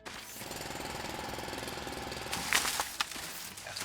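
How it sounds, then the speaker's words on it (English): A rapid, rattling drill grinds into rock in the Foundry video game, a steady pulsing hammer-like chatter that is loud and close, ending with a few crunchy impacts. "Let's drill this rock."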